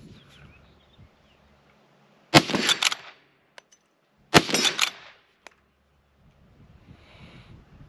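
Two sharp, loud gunshots from an 1873 Winchester Miroku lever-action rifle ring out about two seconds apart, each followed by a short echoing tail and faint clicks of the lever action in between.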